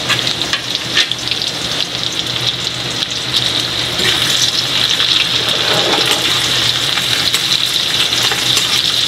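Garlic and onion fry in hot oil in a pan, a loud, continuous close-up sizzle with occasional stirring scrapes and clicks running the whole way through.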